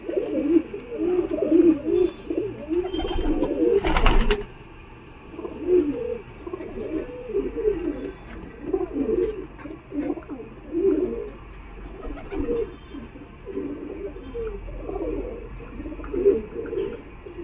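Giribaz pigeons at a Galiff Street pigeon market cooing in repeated soft, throaty rolling phrases, close and fairly clear, with a brief sharp rustle or flutter partway through.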